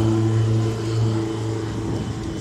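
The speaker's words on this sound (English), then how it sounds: "It's another car, derby car." A demolition derby car with fiberglass work idles on its engine ahead of a derby, a steady low rumble with a slight surge partway through, close and continuous without talk.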